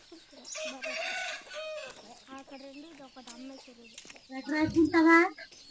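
Roosters held in a net crow and cluck in quick succession, close by and loud, with a burst of harsh crowing near the end; a voice is faintly audible among them.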